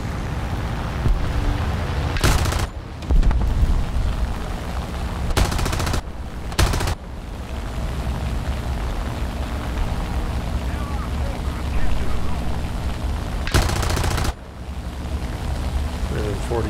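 The Bf 109 G-14 fighter in War Thunder ground realistic battles fires its guns in several bursts, some short and some sustained, over a constant rushing engine and wind roar. Talk runs through the clip.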